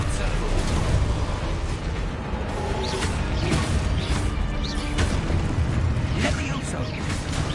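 Expulso explosion spell in the Hogwarts Legacy video game amid a combat spell barrage: continuous loud crashing blasts and booming bursts, with repeated sharp impacts over a dense roar and speech mixed in.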